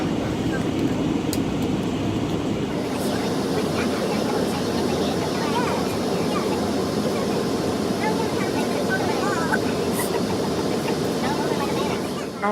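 Steady, loud broadband roar of an airplane cabin during descent fills the whole stretch without letup, a constant engine and air rush with no distinct events standing out.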